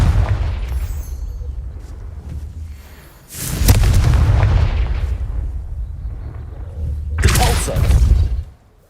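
Booming spell blasts from the Confringo fire spell in Hogwarts Legacy video game, two loud explosive bursts a few seconds apart, each with a rumbling tail, over low ambient noise and no clear talk.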